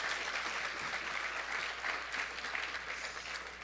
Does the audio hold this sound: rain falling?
no